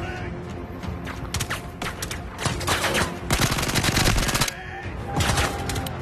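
Rapid automatic gunfire in the VR shooter Zero Caliber 2, heard during a level set in Kaliningrad, with close, loud bursts of sharp shots and brief pauses between volleys, plus some faint mechanical clatter.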